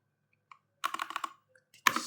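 Close keyboard typing, a couple of isolated taps followed by a quick run of keystrokes, a pause, then another short burst at the end, quiet and alone.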